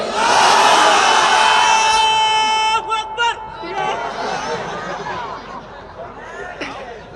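A massive crowd at a large outdoor religious gathering in Meherpur, Kushtia shouts takbir in unison, a loud sustained roar of many voices that breaks off and fades into scattered calls.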